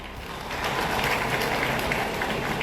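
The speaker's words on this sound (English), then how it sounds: "Please give yourself a round of applause." An audience at a groundbreaking ceremony for a Lagos film city applauds, a broad, steady rush of clapping that swells after a brief start and carries on evenly to the end.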